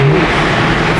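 Loud, close engine roar of a BMW E92 M3 accelerating, a brief steady surge with the pitch settling, no voices.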